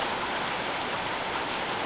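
Water from a countryside spring flowing steadily, a constant dense rushing hiss close by. It continues evenly without pauses and with no voices.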